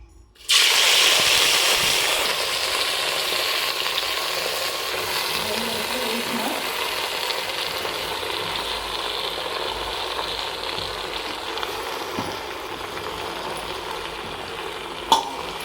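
Gongura leaves and tomatoes fry in well-heated oil, giving a steady, close sizzle with soft stirring scrapes that starts abruptly and holds constant, ending with a sharp clack.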